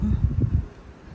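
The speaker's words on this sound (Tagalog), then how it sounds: "Malakas talaga yung hangin to, diba?" Strong wind buffets a third-floor workplace rooftop, a low gusty rumble with a few pulsing bursts in the first half second that then drops to a quieter steady hiss, with no talking.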